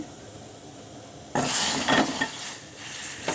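A spoon stirs spices with a pinch of asafoetida in a hot pan for a potato fry. A low hum gives way to a sudden loud sizzle with close scraping and a sharp knock at the end.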